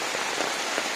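Monsoon rain on the Karnataka coast falls steadily, a dense, even hiss of drops striking surfaces nearby with no other sounds.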